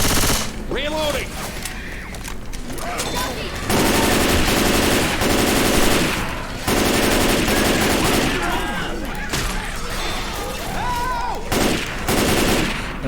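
Sustained automatic M16A2 rifle fire in the Left 4 Dead 2 zombie shooter, dense rapid bursts with brief pauses, loud and close, over game noise and infected cries.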